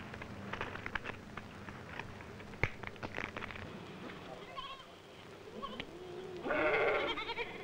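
Sheep bleat in a few short, moderately loud calls over a busy outdoor background, with a louder burst of bleating near the end.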